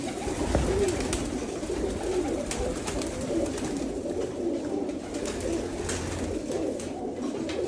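Teddy pigeons cooing in a loft, soft low rolling coos repeating steadily over a continuous background hum, close and moderately loud with no talk.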